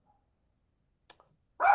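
Single short dog bark, close and fairly loud, arriving at the very end after near silence and a couple of faint clicks, no voices.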